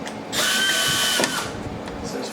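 A power drill with a Torx bit drives screws into a Carbon Flash front splitter on a C8 Corvette Z06 or E-Ray: one loud, sustained whirring burst with a rising whine, then a quick tapering off.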